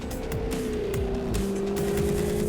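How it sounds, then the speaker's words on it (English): A Jaguar sports car drives hard, its engine climbing and dropping through rapid gear changes with rising and falling pitch sweeps and a hint of tire squeal, loud and close throughout. "Discover the powerful performance that makes driving a Jaguar like no other sports car in the world."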